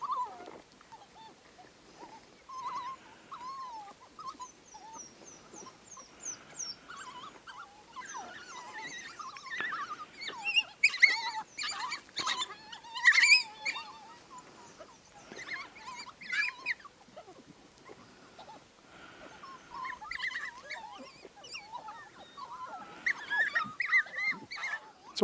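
African wild dogs of the Pungwe pack in Manyeleti feeding on a kill, giving faint high-pitched twittering, whimpering and yipping calls scattered through quiet bush, with busier bursts of squeals now and then at moderate distance.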